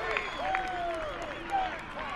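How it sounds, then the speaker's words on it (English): Portage crowd at a state championship high school baseball game, cheering and clapping in the distance as a steady wash of noise, with a commentator talking over it. "Boy, that Portage crowd's making a lot of noise."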